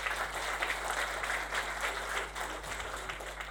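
A conference hall audience at an agile event in Vilnius applauds a presenter with a steady wash of clapping, moderate and even throughout, over a low electrical hum.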